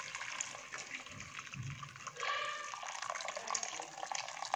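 Hot water is poured into a pan of frying chicken and onion, a faint, steady splashing trickle with a brief sizzling surge midway, fairly close and without speech.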